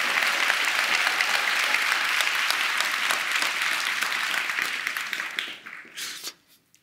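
An audience at a live book show claps steadily, a dense and loud patter of many hands that thins out and fades toward the end.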